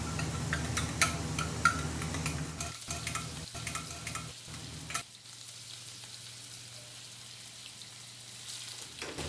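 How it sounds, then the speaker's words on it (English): Onions and peppers with spiced yogurt fry in a pan at a steady sizzle, with scraping stirs and clatter early on that give way to a quieter continuous frying hiss. "Now the onions and the peppers, they're cooking away beautifully."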